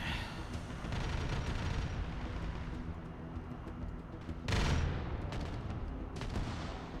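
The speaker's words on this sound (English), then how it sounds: "They just hear the distant gunfire of things engaging from above." Distant gunfire and rumbling blasts rolling under a dense noisy background in a Warhammer 40K video game, with one heavier burst partway through.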